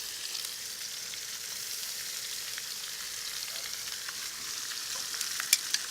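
Onions and carrots sizzle in a pan with a sirloin roast, a steady, moderately loud frying hiss with light crackles and a few sharper pops toward the end.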